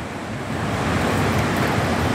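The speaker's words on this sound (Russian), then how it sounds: "И вот шумит эта река" A steady, broad rushing of a mountain river at Doodhpathri, Kashmir, fills the scene, loud and continuous with no breaks.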